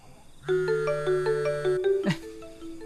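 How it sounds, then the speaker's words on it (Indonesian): A mobile phone rings indoors with a repeating electronic melody of bright tones, moderately loud and unanswered, with no one talking over it. "HP siapa tuh bunyi?"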